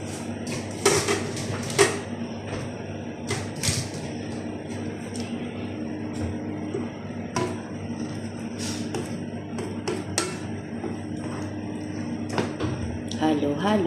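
Vegetables stirred in a cooking pot for ginataang malunggay, with scattered metallic scrapes and clinks over a low steady hum, close, while a person talks throughout.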